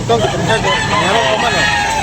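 Loud, close rooster calls over a busy background of chickens clucking at a chicken sale, with other voices faintly mixed in.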